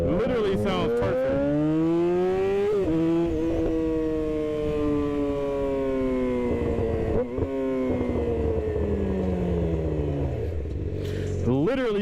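Riding a Yamaha R6 with a Leo Vince GP exhaust, the engine howls loud and close, revs climbing and dropping through shifts before a final burst of throttle.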